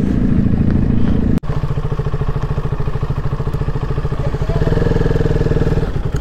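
Several motorcycles idle and rev close by while being parked near Raigad Fort, a steady engine drone with clattering pulses and a brief dropout midway, no talk.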